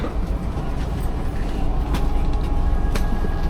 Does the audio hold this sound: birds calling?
no